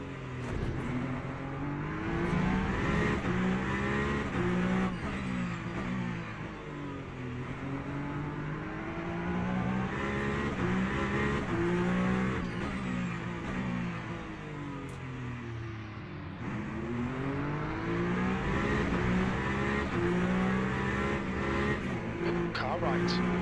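Hypercars and slower-class race cars at COTA in Le Mans Ultimate scream past close by, engine pitch sweeping up and down over repeated gear changes, with a voice talking over the racing throughout.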